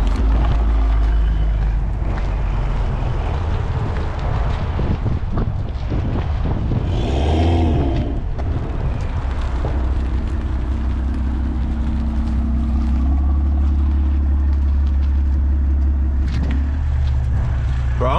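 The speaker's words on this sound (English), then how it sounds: "I don't think you realize how good your car sounds, bro." A BMW M340i driving, with a steady low engine drone and road rumble under gusty wind buffeting on the microphone, heard from close by for the whole stretch with a brief louder swell partway through.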